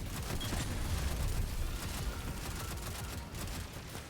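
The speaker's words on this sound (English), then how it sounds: "That amount of explosions was very satisfying." Explosions and gunfire from the video game Destiny 2, a dense continuous barrage of rumbling blasts and crackling shots at moderate level, with no voices.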